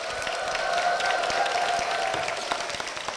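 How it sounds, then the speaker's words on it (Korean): Applause from a church congregation welcoming a guest onstage, a soft, steady round of clapping heard at moderate distance with a faint tonal hum running underneath. "박수로 모시겠습니다"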